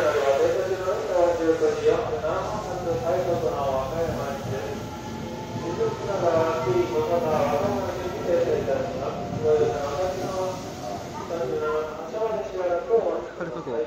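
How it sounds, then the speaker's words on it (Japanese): A Haruka limited express train pulling away from a station, a rising rumble and rhythmic wheel clatter with hiss, heard steadily from nearby, with someone talking over it. "はるか号出発しましたね。"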